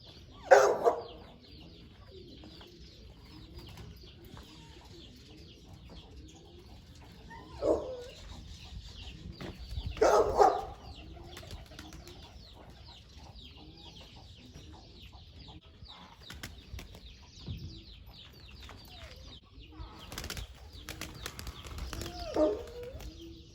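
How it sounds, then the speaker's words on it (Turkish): Pigeons released by hand into the open air over Mardin beat their wings in a few loud, scattered flurries of flapping, with quieter rustling and soft fowl-like clucks in between. "Havaya güzel uçan 3 tane kuş atacağım."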